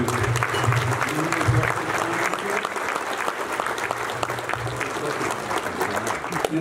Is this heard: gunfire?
no